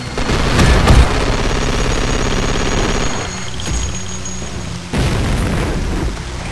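Grenade blasts from a Gatling cannon's alternate fire in the shooter Duke Nukem 3D, loud booming explosions that crash in quick succession with rattling bursts, then a second heavy blast near the end, with no voices.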